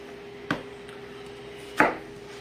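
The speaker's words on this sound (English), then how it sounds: "And then I just make those cube cuts." A knife chops an onion into cubes on a board, two sharp separate thuds about a second apart in an otherwise quiet room.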